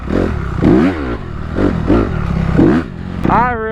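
A dirt bike hops a berm with its engine revving up and down in repeated surges and dips, loud and close, before a final rising rev at the end.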